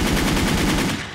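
A Scal WKS rifle in the online shooter Wolfteam fires a rapid, loud, unbroken burst of automatic gunfire that holds steady for about a second before easing off slightly, with no talk.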